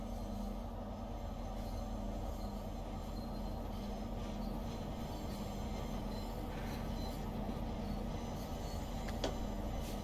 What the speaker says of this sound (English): There's a railhead treatment train